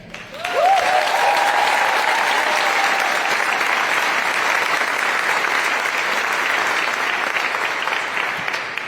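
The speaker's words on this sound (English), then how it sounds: "Thank you for holding your applause on that." Sustained loud applause fills Cameron Indoor Stadium as Kara Lawson is introduced as head coach of the U.S. Women's National Team, steady dense clapping from a large audience after a brief opening tone.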